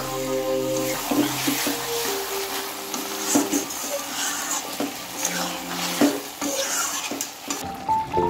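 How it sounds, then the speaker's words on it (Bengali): Mustard paste water is poured into a pan of frying potatoes and pointed gourd, and a busy sizzle follows with steady stirring and the clink of a utensil against the pan. "তো এখন আমি এখানে দিয়ে দেবো বাটি ধোয়ার যে সর্ষে বাটা মশলার জলটা ছিল সেটা এখন আমি দিয়ে দেবো।"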